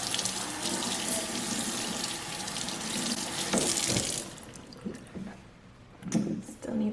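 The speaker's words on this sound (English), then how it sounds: "we're going to go ahead and rinse it and see what we have," Tap water runs steadily over a Cricut cutting mat being rinsed in a sink, a close, full splashing rush that fades into scattered drips and handling sounds. Faint talk joins in.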